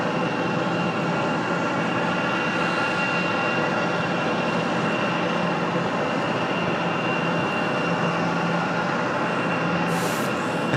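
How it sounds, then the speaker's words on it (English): UPS cargo jet departing at night from Raleigh-Durham International Airport, a steady, loud broadband jet-engine roar that holds constant throughout, with no talk over it. "Our UPS on the way for departure, final departure of the evening"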